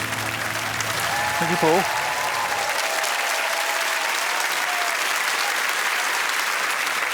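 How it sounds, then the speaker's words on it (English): A studio audience at a comedy panel game show breaks into a sympathetic cheer and sustained applause that fills the room, while a voice speaks briefly near the start. "A sympathy cheer if ever there was"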